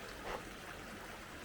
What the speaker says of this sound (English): And this is Slide Creek,